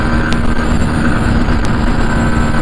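Bajaj Pulsar NS160 motorcycle on a top speed run, a loud, steady engine drone with wind noise and no talking.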